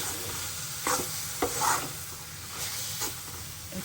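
Grated carrots cook in spoonfuls of ghee for gajar ka halwa, a soft steady sizzle broken by several scraping stirs of the spoon through the pan.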